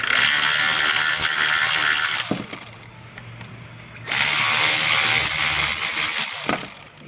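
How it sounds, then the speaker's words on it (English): Power tool spinning out bolts from the top of a Golf Mk6 GTI 2.0 TSI engine during a timing chain job, two loud close whirring bursts separated by a brief quieter pause. "access these bolts from the top and just whiz them out"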